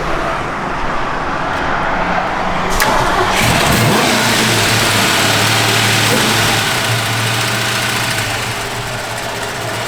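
A 1965 Ford Mustang convertible's 302 V8 cranks and fires up, then runs loud and rough, revving and settling into a deep, throbbing idle close by.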